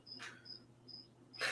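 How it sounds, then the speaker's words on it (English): Cricket chirping dropped in as a gag during a sudden silence in a casual chat, with evenly spaced high, steady chirps repeating about three times alone, with brief louder bursts between. "Suddenly it's silent. Crickets."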